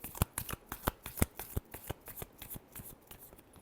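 Tarot cards shuffled by hand in a quick series of crisp riffling snaps, close and clear, with no voices.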